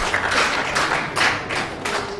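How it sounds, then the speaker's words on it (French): An audience at a conference on women traditional leaders claps for the women, a dense, steady applause with rhythmic pulses of rhythmic clapping, moderately loud and without talk. "applaudissez pour les femmes."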